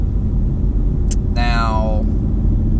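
A 2018 Ford Mustang GT with a 10-speed automatic drives along with a loud, steady low engine and road rumble inside the cabin. A brief spoken word and a short falling tonal whine come over the drone.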